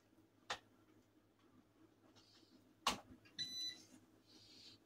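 A kitchen herbal oil infuser machine, making pearly everlasting infused oil, emits two sharp electronic beeps a couple of seconds apart, followed by a short cluster of higher chirping tones, all faint against a quiet room.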